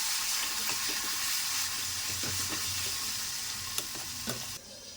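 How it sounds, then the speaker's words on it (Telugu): Gongura leaves fry in a tempering of lentils and turmeric. A continuous close hiss and crackle runs throughout with a few sharp clicks, then quietens abruptly just before the end. "అవి గోలినాక గోంగూర వేసుకోవాలి"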